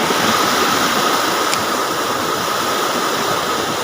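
Water rushes steadily into an eel hunters' trap or channel, a dense, continuous wash with no pauses and no voices.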